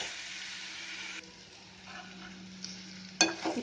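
Chopped vegetables with turmeric sauté in a hot pan for a masala bonda filling, giving a steady, close sizzle with stirring that eases midway before a sharp scrape and clatter near the end.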